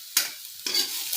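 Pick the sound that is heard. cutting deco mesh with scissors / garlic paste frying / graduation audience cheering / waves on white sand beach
garlic paste frying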